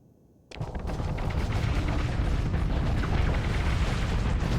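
Heavy weapon fire from a spinning-disc gun in the Starsector game with the Imperium of Man mod: a sudden loud blast after brief quiet, rolling into a sustained booming, rumbling barrage that holds steady and loud.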